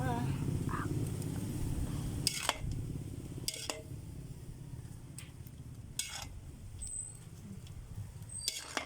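Metal utensils scrape and clank against a pan while bihon and canton noodles are tossed together, with several sharp knocks standing out over a steady low kitchen rumble and voices nearby.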